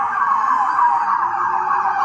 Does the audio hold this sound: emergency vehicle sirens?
yes